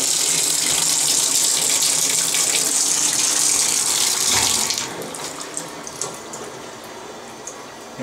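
Tap water running at low pressure in a house interior, a steady broad hiss of flow that drops noticeably quieter about halfway through and continues faintly to the end.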